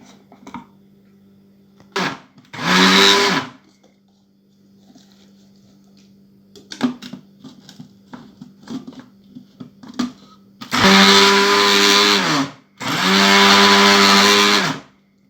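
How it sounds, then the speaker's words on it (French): Onions being blended in a kitchen blender for harira soup, with three loud motor bursts of a few seconds each separated by quiet gaps filled with clattering and handling knocks. "On mixe bien les oignons."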